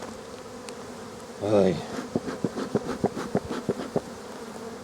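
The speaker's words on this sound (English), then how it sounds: "Wasps are all over here now. Bees are all over." Bees and wasps buzz close around beehives during a poor August beekeeping day, a steady insect hum broken by a string of short, sharp buzzing passes and one louder burst near the start.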